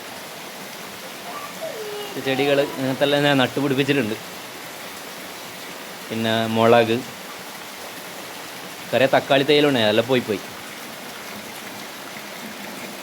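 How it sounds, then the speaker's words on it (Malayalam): Heavy rain pours down in a steady, broad wash of noise that continues without a break, while someone speaks over it in short stretches. "മഴ നല്ല രീതിയിൽ തന്നെ പെയ്യുന്നുണ്ട്"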